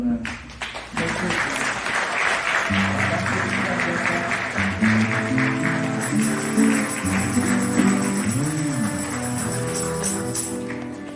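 A crowd at the Saint Joseph festival in Les Tarterêts applauds steadily, and the clapping runs under loud music and voices for the whole stretch.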